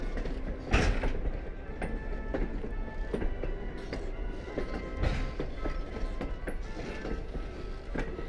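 Wooden-bodied heritage railroad cars on the Strasburg Railroad roll steadily past at close range, with a continuous rumble, squeals and rhythmic clicking of the wheels over rail joints.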